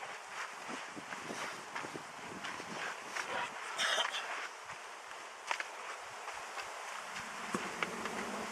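Honey bees hum steadily around old hollow-log hives, a continuous buzzing drone with a few soft footsteps and outdoor rustles nearby.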